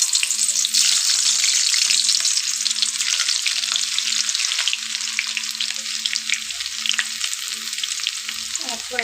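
Chopped garlic frying in hot oil on an electric heater: a loud, dense, continuous sizzle and crackle that holds steady throughout, with no voices.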